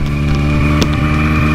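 A Honda CB350F motorcycle engine idles at around 2000 rpm, a steady close throbbing drone with a faint tick and a brief knock partway through, no voices.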